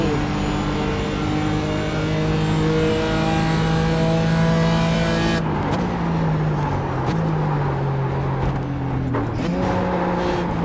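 A BMW race car in the iRacing sim accelerates hard at Charlotte, its engine howling loud and continuous with rising pitch, a sharp gear change midway, then steady revving with further shifts among other cars.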